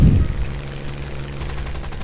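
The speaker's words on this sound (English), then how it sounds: "Spitfire 8 Browning machine gun." Browning machine guns of a Spitfire firing in the game War Thunder, a loud burst at the start followed by a fast, rattling stream of shots over a droning engine.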